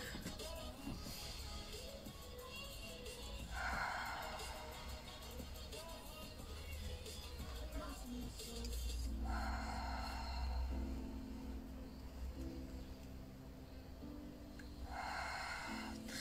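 Deep inhalations during a shoulder mobility exercise class: a few slow, breathy intakes spaced several seconds apart over a steady room background, with no talk.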